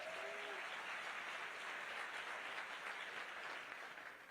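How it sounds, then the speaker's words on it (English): A crowd at a Bernie Sanders Fight Oligarchy tour rally in Durham, North Carolina applauds itself. The clapping is even and sustained, heard from a distance at a fairly low level. "Give yourselves a round of applause"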